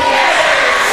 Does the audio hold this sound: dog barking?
no